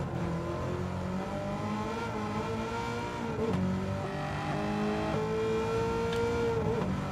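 A Gran Turismo 7 GR.3 race car engine revs loudly and continuously at Watkins Glen, its rising and falling pitch sweeping up through gear changes with a slightly echoing, close-up roar and no talk.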